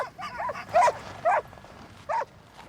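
Young sled dogs on Arctic ice give a series of short yips and barks, four or five bursts at uneven intervals, moderately distant, over a steady low background rumble.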